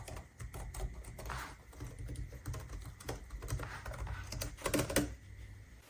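Typing on a ProtoArc EKM01 Plus ergonomic wireless membrane keyboard, with a quiet, soft run of irregular keystroke taps close up and no talking.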